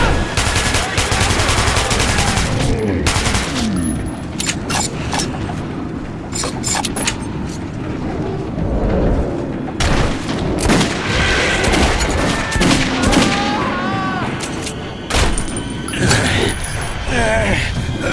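Chaotic gunfire in the video game Metro 2033, continuous loud bursts and booms with shouting voices mixed through the fight.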